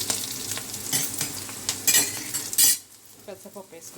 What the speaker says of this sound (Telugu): ఉల్లిపాయలు వేగుతున్నాయి, వేగనిద్దాం